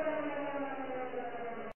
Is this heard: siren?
yes